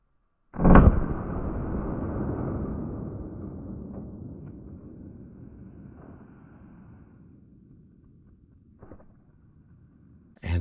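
A .357 Magnum revolver fires once into a ballistic gel test block backed with MDF: a single sharp, loud crack followed by a long decaying rumble, then quiet with faint later clicks.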